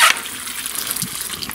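Water gushes and sprays from a badly closed fitting on a fertilizer dosing pump in a greenhouse watering system, a sharp hiss at the start settling into a steady close splashing trickle.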